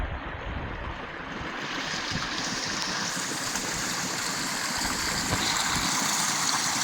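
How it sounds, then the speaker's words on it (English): A small waterfall and running stream in winter woods, a steady, rushing wash of water, fairly close and continuous, gradually swelling slightly, with no voices. "Cool little waterfall."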